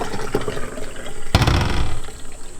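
Cooked noodles are drained in a kitchen, with water pouring and splashing loudly into a sink in one continuous gush.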